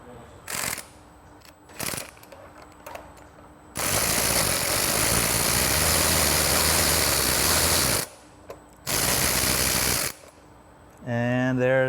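A ratchet on a wobble extension loosens the exhaust nut of a Vespa Sprint/Primavera during a Malossi cylinder kit install: a few short clicking bursts, then a long, loud run of ratcheting and another shorter one, with a brief voice at the end.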